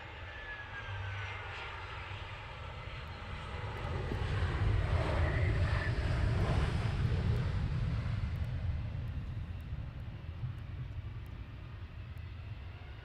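An EasyJet airliner arrives at Luton Airport, its jet engines rumbling faintly at first, swelling to a broad roar as it passes, then fading away into the distance.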